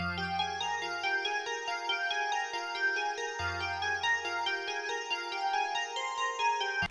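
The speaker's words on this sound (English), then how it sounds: "grabbed this little key sound, this wine key sound" A bright synth key melody climbs in a repeating ascending pattern over a recurring low F bass note, steady and clear with no voices.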